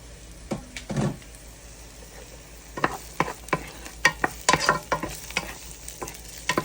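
Pinakbet with tofu being stirred in a pan, with irregular scraping and clattering strokes of a utensil over a soft background sizzle, sparse at first and then quicker and busier.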